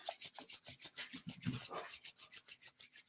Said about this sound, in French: on frotte les paumes des mains l'une contre l'autre